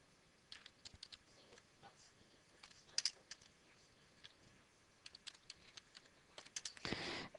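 Names being typed on a computer keyboard, with scattered quiet key clicks in short bursts and a louder flurry of rapid keystrokes near the end, close and faint, with no talking.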